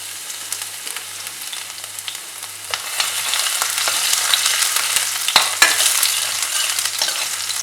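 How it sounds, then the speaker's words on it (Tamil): Garlic, ginger and cumin seeds frying in ghee and oil for a dhaba-style dal fry give a steady close sizzle with occasional stirring scrapes and pops, gradually growing louder. "இதில் வந்து பூண்டும் இஞ்சியாக சேர்க்குறேன்."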